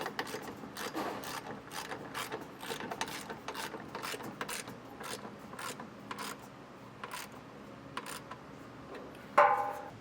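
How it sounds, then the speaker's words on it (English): A ratchet wrench with an 11/16 socket tightening the nuts on a TowSmart trailer hitch receiver being installed on a 2019 Honda CR-V, giving a quiet, rapid run of clicking pawl ticks in repeated bursts, close up, with one sharper clank near the end. "now we'll go ahead with taking an 11/16 socket and tighten our nuts down"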